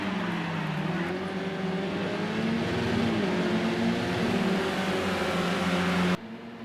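Caterham race cars racing in the Project CARS 2 racing game, a steady, loud engine drone with shifting pitch as the cars lap, continuous throughout before dropping off abruptly near the end.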